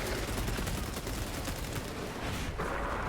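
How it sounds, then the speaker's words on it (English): Rapid bursts of plasma pistol fire from Space Marine 2 crackle in a dense, loud barrage, overlapping shots rattling continuously before a brief drop near the end. "I do love the double gun strikes with the plasma pistol"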